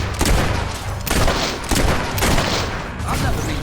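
Gunfire in the Fable 3 video game, several loud booming shots in quick succession, each cracking and then rumbling off, close and dominant.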